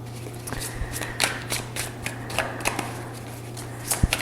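A deck of Psychedelic Space Tarot cards is shuffled by hand, giving a close, soft rapid riffle of card flicks and taps with a steady low hum underneath and no talking.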